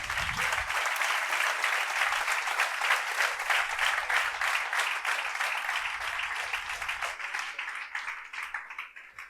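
A church congregation at a national youth conference applauds, many hands clapping in a sustained, even wash heard from a distance that tapers off gently toward the close.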